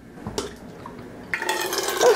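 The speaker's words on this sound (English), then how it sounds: "So I'm going to go ahead and see how this pours." Melted candle wax pours fast from the large spout of a DIY wax melter, a close liquid trickle that starts faintly and swells into a steady pouring stream.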